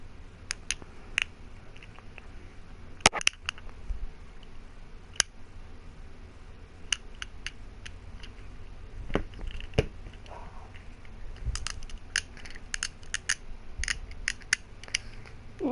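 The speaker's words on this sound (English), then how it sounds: "Playing here with my black and green fidget cube here. You might hear clicking every once in a while." A black and green fidget cube being played with, sharp clicks coming in scattered bursts and clusters, close and crisp against a steady low hum.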